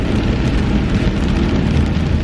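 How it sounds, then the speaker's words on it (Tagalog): Heavy storm rain pours down in a dense, unbroken hiss and roar, loud and close, with no talking over it. "ang lakas ng ulan"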